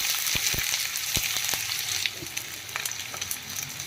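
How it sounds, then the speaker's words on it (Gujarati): Spices and chopped onion hit hot oil for a restaurant-style cashew paneer curry, giving a steady, close sizzle with sharp crackles and pops scattered throughout, no talking. "તો આપણે આ મસાલા એડ કરી દેશું અને આપણે આ ડુંગળી છે એ એડ કરી દેશું"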